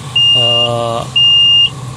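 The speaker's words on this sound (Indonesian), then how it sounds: "Ini patik alarm, jadi dia akan berbunyi" Alarm on the cab panel of a Komatsu HD 785-7 dump truck, a 450-ton hauler: two loud, steady high beeps, each about half a second, over a constant low engine drone, with a buzzy tone under the first.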